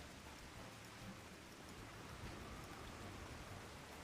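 Continuous rain pours down in Final Fantasy XIV, a thick, uniform wash of falling drops that stays at one level from start to finish, with no voices.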